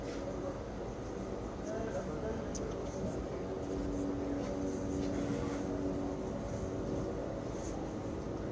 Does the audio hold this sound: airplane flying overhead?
yes